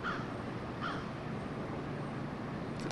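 A man imitates a crow on a street in Greenwich Village, New York, giving two short, hoarse caws close together. Steady outdoor street noise continues underneath.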